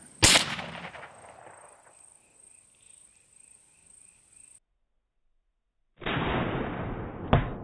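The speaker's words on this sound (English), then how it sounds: "Now moving on to 10 pounds of lead with the 22 magnum." A .22 Magnum is fired into a 10-pound block of lead: one sharp, loud crack followed by a thin fading ring, a stretch of silence, then a rough noisy burst with a final snap.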